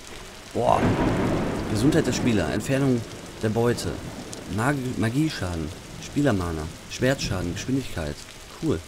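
Rain and thunder from the video game Block Story form a steady broadband wash under near-continuous talk by a commentator.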